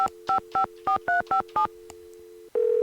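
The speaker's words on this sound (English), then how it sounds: "Let's phone Ned." A run of seven short, evenly spaced telephone keypad tones dialed over a steady dial tone in a Nancy Drew mystery game, The White Wolf of Icicle Creek, followed by a sustained ringing tone, clear and alone.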